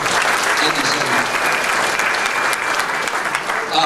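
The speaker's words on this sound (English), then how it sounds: "How about a nice round of applause for all of you?" Loud, continuous applause fills the room at a charity auction, a full audience clapping evenly throughout with crowd noise mixed in.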